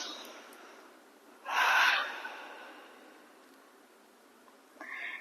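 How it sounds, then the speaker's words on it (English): During a lower-body yoga flow, one deep, audible breath rushes in clearly and close, then fades into quiet; a shorter, softer breath follows a few seconds later. "Take another deep breath here."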